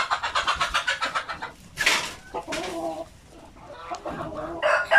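A Basilan rooster and hen cluck steadily up close, a rapid run of repeated clucks followed by louder squawking calls and softer scattered clucking.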